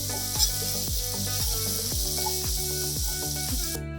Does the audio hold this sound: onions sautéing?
yes